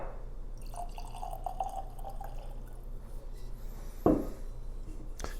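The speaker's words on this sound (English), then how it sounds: "I'm going to pour one here now." anCnoc 12 Scotch whisky poured from the bottle into a glass, a soft trickling splash for a second or so, then a clear clink of glass and a lighter tap close by in a quiet room.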